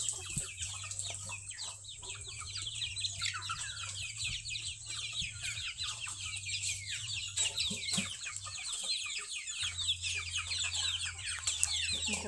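Hens and chicks cluck and peep steadily nearby on a farm, with a continuous chorus of chirps over a low background hum and no talking.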